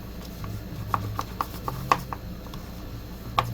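A utensil stirs Samyang Buldak cheese spicy ramen noodles in a cup, giving soft, irregular clicks and scrapes, fairly close and quiet, with no talk over them.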